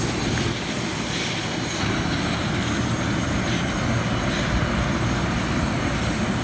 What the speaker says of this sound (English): We're taking the plane over the volcano.